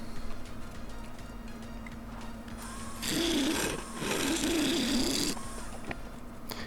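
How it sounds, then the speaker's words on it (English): Negative rake scraper flattening a wood inlay surface on a lathe: a faint steady motor hum with two rasping bursts of scraping against the spinning workpiece, each lasting about a second, close and quiet. "Using the scraper, just trying to get that surface nice and flat before I start sanding."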